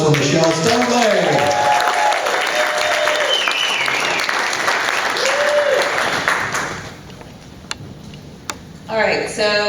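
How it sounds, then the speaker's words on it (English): An audience at a regional meeting in Columbus, Ohio, applauds to welcome a speaker. Dense clapping lasts about six seconds with a voice talking over it, then thins out to near quiet with a few scattered claps. "So please give her a warm round of applause for Mishel Stoneley."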